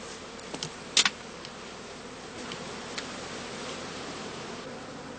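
Honeybees flying around the entrances of skep hives during the heather blossom, a steady faint buzz of many insects with a few brief louder passes close by.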